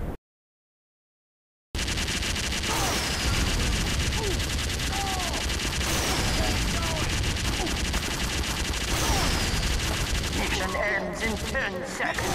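Rapid automatic gunfire rattles in a multiplayer shooter video game, dense sustained bursts with weapon effects throughout, after a short silent gap at the start.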